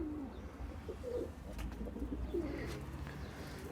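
Soft pigeon cooing in low murmuring phrases inside a coop, with a few faint chirps and light clatter over a quiet background hum.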